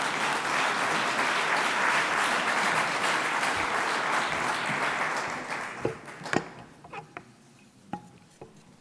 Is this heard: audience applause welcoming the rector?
yes